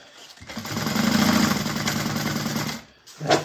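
A sewing machine stitches a bag seam in one continuous run of about two and a half seconds, a close, steady mechanical whir that stops and is followed by a short thump of handling.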